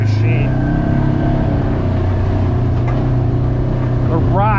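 Polaris RZR side-by-side engine droning at steady speed while riding a narrow 50-inch wooded trail, a loud continuous low rumble close by, with someone talking over it.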